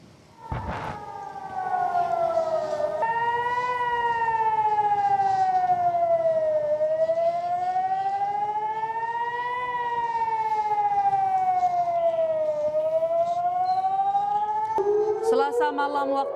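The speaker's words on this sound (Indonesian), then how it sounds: "rudal Iran yang masuk ke langit Yerusalem membuat sirene peringatan di kota itu kembali berbunyi" Air raid warning sirens wailing over Jerusalem during an Iranian missile attack, a loud sustained tone slowly rising and falling in long sweeps that continue throughout the clip.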